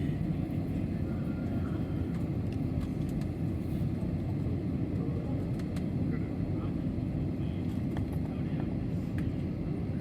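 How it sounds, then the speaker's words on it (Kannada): Steady broadband cabin drone of an airliner in flight from Hyderabad to Bhubaneswar at sunset, a continuous low rumble holding the same level throughout with no talk over it. "ಕಲ್ಕತ್ತೆಯ ಭುವನೇಶ್ವರದವರೆಗಿನ ವಿಮಾನ ಪ್ರಯಾಣ ನಮ್ಮದು"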